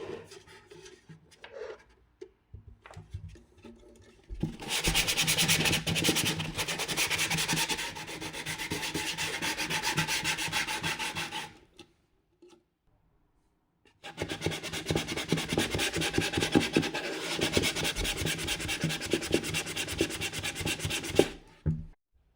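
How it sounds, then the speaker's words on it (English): Steady hand sanding rasps across a wooden ukulele with 240-grit sandpaper in two long stretches of rapid back-and-forth strokes, separated by a short pause, close and fairly quiet. "So finally, I'm almost done with sanding"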